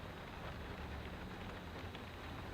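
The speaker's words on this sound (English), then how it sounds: "As you all can hear, it's raining." Rain mixed with sleet and snow falls on the roof of a van parked at a Walmart, making a dense, steady patter of soft hiss with no voices.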